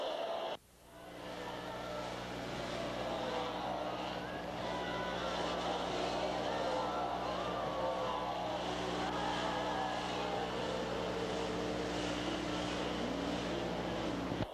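Flat track motorcycles race down the back straight of the Ascot Park half-mile, a loud, sustained engine drone with shifting pitch that fills the whole stretch, carried on a broad crowd-and-track roar.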